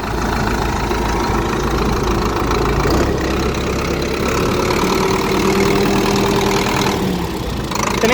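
Sonalika DI 60 tractor diesel engine, turbo, running loud and steady close by, a continuous rumbling drone with slight pitch shifts as the throttle is pressed, no talk over it.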